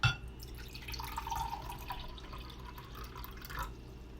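Cold water, 100 milliliters, is poured into a container, giving a short splash followed by soft trickling and a few drips, quiet and close.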